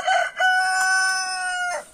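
A rooster crows in a village yard, one loud, close, drawn-out call with a short opening note and a long sustained ending, with no talking.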